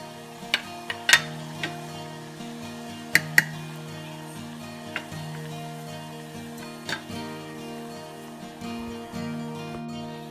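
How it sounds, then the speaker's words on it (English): A spoon stirs simmering masala chai in a pot, giving irregular faint clinks and taps against the metal over a steady low hum and a soft bubbling hiss. "Now let it simmer and mix it."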